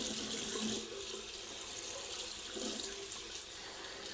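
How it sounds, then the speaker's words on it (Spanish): Lukewarm water runs from a tap into a sink while a ferret is being bathed, a steady broadband splashing flow with slight surges, close and fairly quiet, no talking. "Le vamos a poner el agüita así templadita y con poca cantidad."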